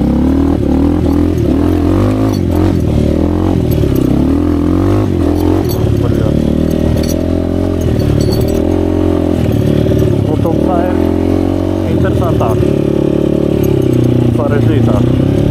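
A Piaggio NRG scooter riding along a small dirt track, its engine droning loudly and steadily with rising and falling revs, plus rattling and scraping from the ride, while a rider's voice talks over it.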